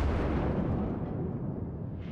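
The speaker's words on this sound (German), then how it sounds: "Oh, das war ein schöner Zitadellentreffer." Citadel hit from a shell striking a battleship in World of Warships, a single deep, heavy boom that rumbles and slowly fades over about two seconds.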